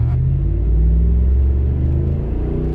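Tuned 2018 Ram Power Wagon engine revving hard, a loud, close, sustained deep rumble with a steady drone and slight swells, no talk over it.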